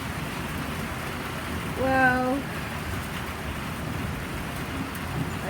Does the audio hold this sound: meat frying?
no